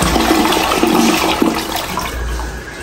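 A toilet bowl flushing in a newly built house, tested before painting: a loud rushing surge of water that holds steady, then thins and settles toward the end, heard close and alone.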